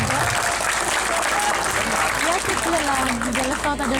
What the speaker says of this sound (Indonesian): Tepuk tangan untuk Latifah